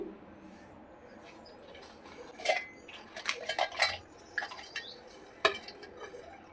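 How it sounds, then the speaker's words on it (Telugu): Cooled roasted spices are tipped into a mixer grinder jar, making a scatter of light rattling clinks and taps against the jar in a quiet kitchen, with one sharper knock near the end. "ఇప్పుడు వీటిని ఓ మిక్సీ జార్లో వేసుకోవాలి."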